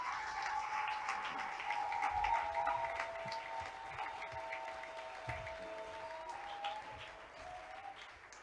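A church congregation applauds for Jesus with sustained, fairly faint clapping, a held sung or sustained tone running above it throughout.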